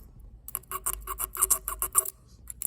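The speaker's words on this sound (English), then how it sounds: "now the gauge is sliding through nice and smoothly" Feeler gauge rasping as it slides between the valves of a Yamaha Raptor 660 ATV engine, a rapid run of short scraping strokes, close and fairly loud, alone without talk.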